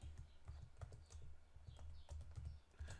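Quick keystrokes on a computer keyboard while an Excel formula is typed, a steady run of soft, close clicks with short pauses between bursts.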